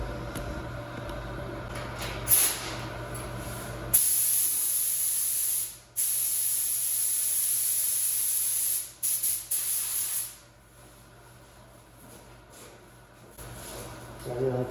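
Spray gun laying clear coat on 1990 Kawasaki ZXR750 motorcycle parts at about 2.5 bar, loud close hissing bursts of several seconds each with short pauses, tapering into quieter background hiss.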